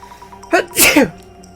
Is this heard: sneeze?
yes